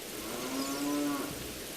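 A cow in the video game The Legend of Zelda: Ocarina of Time (Master Quest) gives a single drawn-out moo, clear and fairly loud over a steady game background.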